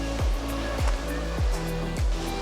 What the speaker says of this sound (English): So now that I'm closer to the waves, I don't want to get wet.